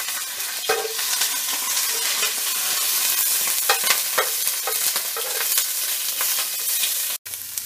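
A spice blend and onions fry in a pan after sage has been fried, giving a steady close sizzle with scattered scraping stirs. A brief dropout comes near the end, and there is no talking.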